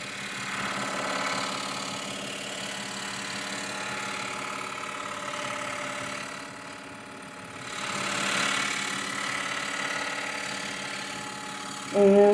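A scroll saw cuts a one-inch double stack of glued half-inch butternut, a soft wood. It gives a steady, continuous buzzing hum, with the sound of the blade rising and falling slightly as it follows the line.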